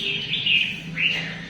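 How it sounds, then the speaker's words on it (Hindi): Small birds chirp in trees beside a home: bright, repeated tweets in short, overlapping phrases, clear and fairly near, with a faint background hum. "देखिए ये नई चिड़िया हमारे पेड़ों पे आई है"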